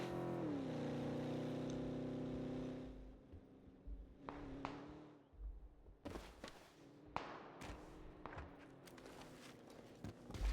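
Car driving in PUBG, its engine droning steadily at first, then dropping in pitch and fading, followed by a series of scattered thumps and clanks over a quieter engine hum.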